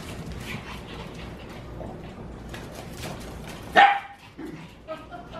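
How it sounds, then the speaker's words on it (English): A dog barks amid a busy household scene, with a loud sharp burst of barking standing out partway through, then a few smaller yips and noises, while people talk and play around it. "that's why Shaggy's barking"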